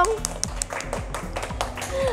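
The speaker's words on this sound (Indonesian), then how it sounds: "tepuk tangan dong" Hand claps tap out at a steady, evenly spaced rhythm at a children's online service, close and moderate in volume, over light background sound and voices.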